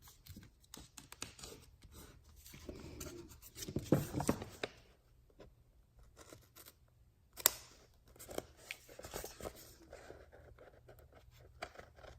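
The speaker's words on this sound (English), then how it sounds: "Just trim off that edge, trim off that edge." Scissors snip along the edge of a paper bag for an art journal, with soft crisp cuts and papery rustling, a louder flurry in the middle and a sharp click later, near and quiet, no talking.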